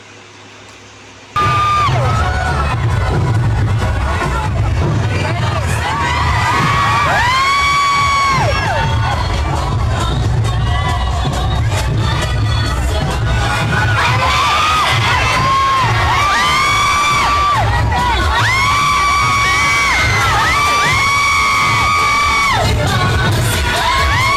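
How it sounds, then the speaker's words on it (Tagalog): Fans at the Sinulog parade in Cebu scream and cheer loudly for actress Barbie Forteza, a dense, sustained roar of high-pitched shrieks and yells over a steady low drumbeat, surging in waves after a quiet opening second. "Grabe nga yung sigawan kay Miss Barbie Fortesa."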